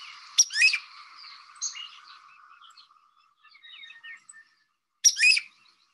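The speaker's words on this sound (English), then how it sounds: "This is one of Central America's blackbirds, called a groove-billed ani." A groove-billed ani in Costa Rica gives two sharp, bright call bursts about five seconds apart, with softer chattering notes between them, heard alone at moderate distance.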